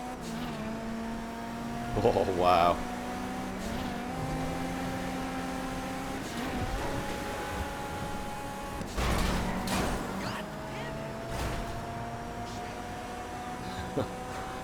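A Kuruma car races in GTA 5 Online with a steady engine drone that rises and shifts in pitch, with brief squeals and bursts of impact noise. Someone talks briefly over it.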